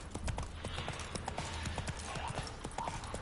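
Horse hooves in The Witcher 3 video game, a rapid continuous clip-clop of galloping hooves with splashy texture as the horse moves through water, steady and close.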